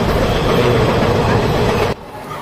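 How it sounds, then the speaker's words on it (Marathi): The Raja Rani Express rushes along at speed, a loud, dense roar of wheels and carriage rumble heard from inside the coach, cutting sharply quieter near the end. "परत ट्रेन पण खूप फास्ट जात आहे"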